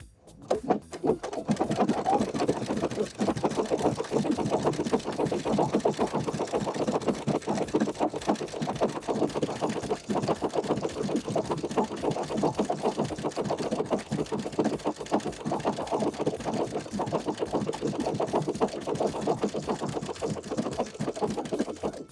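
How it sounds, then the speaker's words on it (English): A sewing machine runs continuously at an even, rapid rhythm as it stitches a decorative bow pattern with three threads held together, loud and close with no pauses. "I've selected a decorative stitch. I'm going to be stitching out some bows."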